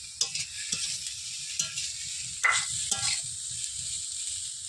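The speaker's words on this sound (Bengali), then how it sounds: "আলু পেঁয়াজ আগেরগুলো সব ভাজা হয়ে গেছে, তারপরে বাঁধাকপি দেওয়া হয়েছে। বাঁধাকপিটা ভাজা ভাজা হয়ে গেলে" Cabbage frying with potato and onion in a pan for a pasta dish: a constant soft sizzle broken by a few scraping stirs of a utensil against the pan, close and alone.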